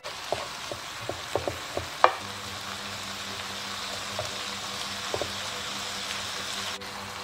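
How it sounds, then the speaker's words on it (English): Carrot and green pepper fry in a pan with a steady close sizzle, and a few sharp clicks and taps of utensils come early on over the hiss. "I'm gonna add my carrot and green pepper."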